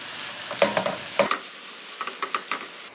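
A spoon stirs fresh spinach into a sizzling ground beef mixture in a pan for a high-protein pasta dish, with close scraping strokes in two bursts followed by lighter rhythmic stirring over a steady fry.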